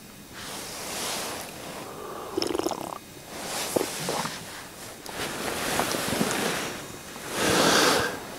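Calm outdoor ambience beside the River Ebro, with soft swelling washes of water and breeze rising and falling, plus a few faint knocks and rustles nearby; no talking.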